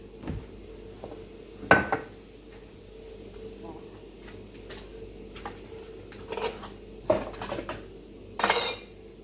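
Plates, cutlery and dishes clink and clatter while being cleared away after a meal, scattered knocks and scrapes at close range against a low background hum.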